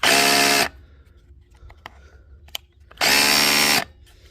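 A repaired DeWalt power drill whirs loudly in two bursts, running for under a second at first, then, after a pause filled with small handling clicks and knocks, starting again for almost a second.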